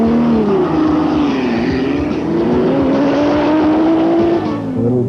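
Modified turbocharged Porsche 914 race car with a 345 cubic inch, 500 horsepower engine, running in an open-road race: a loud, close engine roar with a steadily climbing pitch as it accelerates hard, fading slightly at the end.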